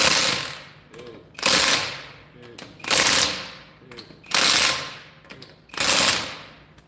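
An impact wrench tightening lug nuts on a 2017 Honda Pilot, five loud, close, short bursts of hammering rattle, each fading out, separated by brief pauses.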